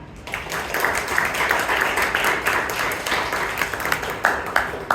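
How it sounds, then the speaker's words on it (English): Applause from the audience at a Toastmasters club meeting in Bangalore: steady, dense clapping from a roomful of people for about five seconds, with a few sharper individual claps standing out near the end. "Give a huge round of applause to Toastmaster Bhavana."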